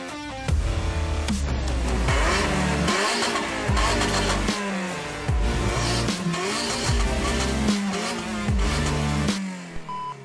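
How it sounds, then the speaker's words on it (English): Toyota GR Yaris with its 1.6-litre three-cylinder engine drives hard on a hill route, revving up and down through gear changes, with loud engine harmonics and occasional tyre noise close to the microphone. "the Toyota Yaris GR is a car that all of the hype is about"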